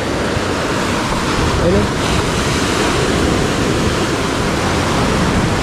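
Sea waves roll onto a shore where driftwood and bamboo have washed up, a loud, steady rushing wash of surf with wind noise and a brief spoken word.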